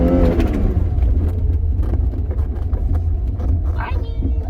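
A Mercedes 190E with non-working fuel injection, long abandoned, revs hard up to its rev limiter while a tire spins, giving a loud, continuous engine roar and rumble close by.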